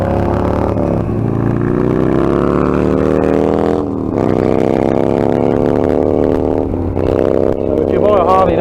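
A motorcycle ridden on a road at a roundabout gives a steady, loud engine drone that shifts in pitch as the throttle changes, with a second motorcycle passing nearby amid continuous wind and engine noise.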